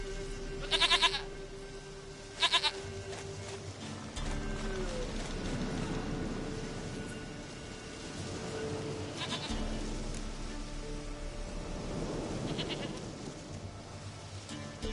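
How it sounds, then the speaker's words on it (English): Goat bleats in The Witcher 3, two short nasal calls near the start over a steady ambient game backdrop with soft rain-like hiss and low music. "Goat of mine, dearest, sweetest goat."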